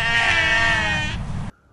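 A sheep bleats once, a loud, close, wavering call lasting over a second, then cuts off into near silence.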